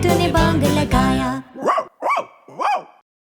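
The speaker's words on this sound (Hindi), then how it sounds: "नहीं बारतोलीटो वो एक कुत्ता है।" A cartoon dog in a children's rhyme barks three times, each bark spaced out and fairly loud, following a stretch of bright music without speech.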